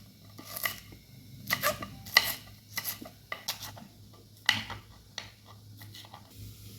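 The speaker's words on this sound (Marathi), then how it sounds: "अशा प्रकारे आपण सर्व मिरच्या कट करून घेऊया" A knife cuts green chillies into small pieces on a board for dahi mirchi, an uneven run of close, sharp chops and light scrapes over a quiet hum, with no talking.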